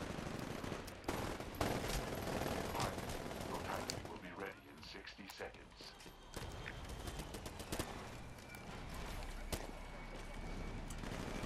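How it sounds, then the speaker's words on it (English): Gunfire in the video game Titanfall during an Attrition multiplayer match on Outpost 207, scattered rapid bursts and single cracks, mostly distant and fairly faint amid game ambience. "Keep hearing shots, and I don't see like anybody shooting."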